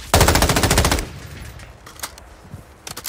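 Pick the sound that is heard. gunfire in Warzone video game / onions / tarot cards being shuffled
gunfire in Warzone video game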